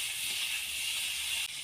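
Capsicum, tomato, chilli and salt fry together in a hot pan for restaurant-style paneer chilli, giving a bright, steady sizzling hiss that shifts briefly near the end.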